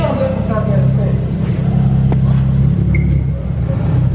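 A loud car engine rumbles steadily at a car meet, a heavy low drone that holds throughout, with people talking over it.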